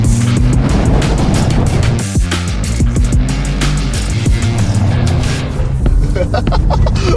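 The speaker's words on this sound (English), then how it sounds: "Today, I'm behind the wheel, the highly anticipated 2025 Toyota 4Runner" Steady, loud engine and road noise from a 2025 Toyota 4Runner TRD Pro SUV driving, a continuous rumble with a few thumps and bumps along the way.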